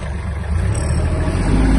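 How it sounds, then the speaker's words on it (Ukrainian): A Kubota GL-21 Japanese mini tractor engine running in first gear rumbles steadily nearby, a low throbbing drone that holds without pause. "давайте ще вам покажу мінімальну швидкість трактора."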